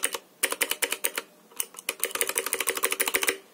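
Quick, irregular typing on a Motospeed CK61 mechanical keyboard, close up. Bright key clacks come in two bursts separated by a short pause, with no talk.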